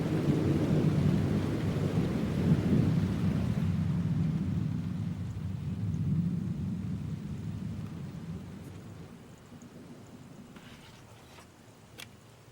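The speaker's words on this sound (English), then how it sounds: "Relaxing rain sounds." Rain falls steadily in Rosarito, Mexico, with heavy rumbling thunder that rolls loud at first, then eases into a quieter, more distant rumble as the downpour continues, with a few sharp drips near the end.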